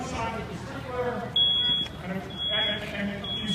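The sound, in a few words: smoke alarm going off during fire demo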